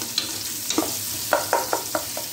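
Garlic-ginger paste being stirred and fried with onions in a pan for mutton payee: a soft sizzle under a series of about six scraping stir strokes, close and moderate in volume.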